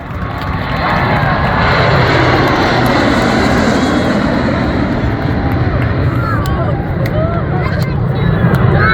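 Blue Angels jets make a single flyby at an air show in 2024: a loud, sustained jet roar that swells and holds across the whole stretch, with a public-address voice talking underneath.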